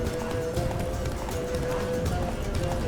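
Horse hooves pounding at a steady gallop in The Witcher 3: Blood and Wine, with continuous rumbling ambience and a faint tonal hum throughout.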